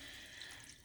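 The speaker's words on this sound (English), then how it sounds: "I'll just go ahead and pour this water and then flavor it with the bouillon" Water pours into a cooking pot in a kitchen, giving a faint, steady hiss of running liquid that lasts the whole short moment.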